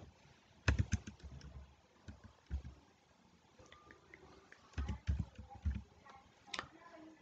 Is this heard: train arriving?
no